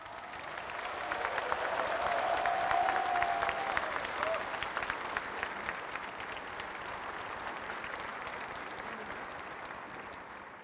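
Broad, sustained applause from a large crowd at Korea's 74th Liberation Day ceremony, for President Moon Jae-in, swells and then slowly tapers off, steady and moderately loud throughout.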